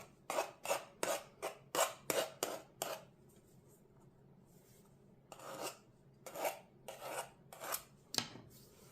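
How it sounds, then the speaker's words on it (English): Pumpkin pie dough being trimmed at the edge of the pan, a quick run of rhythmic rasping cuts, a quiet pause, then another burst of scraping strokes, close and fairly soft. "Next thing we want to do is trim it to the edge of the pan"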